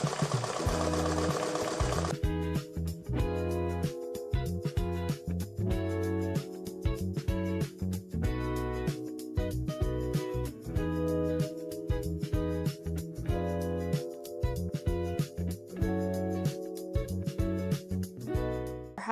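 A Sewtalent embroidery machine stitching a design onto a hat, a fast rhythmic mechanical chatter with a steady hum, loud and close, running on without talk.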